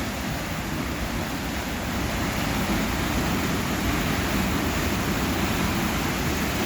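Water flowing through an Erie Canal lock fed from Lake Erie makes a steady, dense rushing wash that continues unbroken and fairly loud throughout, with no voices.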